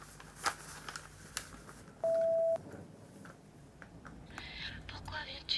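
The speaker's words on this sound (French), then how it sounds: "Laissez-moi un message après le signal sonore." An answering machine on a home landline sounds a single steady electronic beep, about half a second long, after a few soft clicks and rustles in a quiet room.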